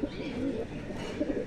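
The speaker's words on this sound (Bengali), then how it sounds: "চলুন পরবর্তী একটা সিঙ্গেল পায়রা আমরা দেখি।" A Malbai cross pigeon gives soft, low rolling coos at close range, a couple of brief murmuring phrases in a quiet indoor setting.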